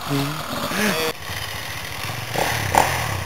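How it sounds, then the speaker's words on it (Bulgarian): A motorcycle with no working clutch runs close by, its engine droning and revving unevenly in an outdoor setting while people talk over it. "Мотор без съединител."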